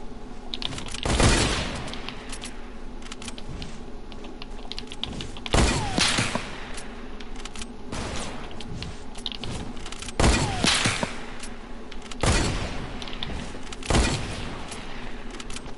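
Sniper and automatic gunfire from a PS4 shooter game cracks out in loud bursts every couple of seconds over a steady background, with brief sharp shots between the heavier volleys.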